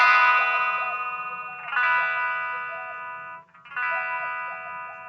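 Electric guitar run through a talk box, with the mouth shaping vowels so sustained distorted notes bend in repeated wah-like vowel sweeps, cutting out briefly near the end before returning; no talking.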